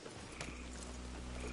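Horse hooves clip-clop at a steady walk on a trail in Red Dead Redemption 2, quiet and continuous beneath a low ambient hum.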